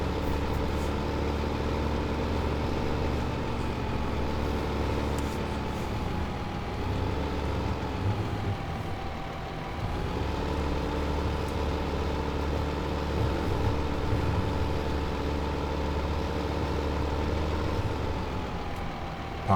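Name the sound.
tractor engine idling while parking, Farming Simulator 15 video game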